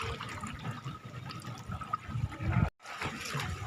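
Ganges river water swirls like a whirlpool, a steady close rushing and gurgling that runs throughout with a brief cut near the end.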